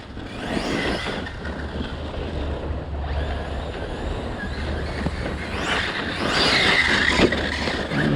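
An ARRMA Kraton 8s V1.5 RC car on Duratrax wheels accelerates under throttle, its electric motor whining and tires scrabbling in several loud bursts that swell toward the end, nearby and with no talk.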